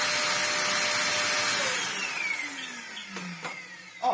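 A restored Sebo Dart 1 upright vacuum cleaner runs steadily with a loud, close whine, its pitch dipping and shifting toward the end as the airflow changes, with a few clunks just before the motor surges again.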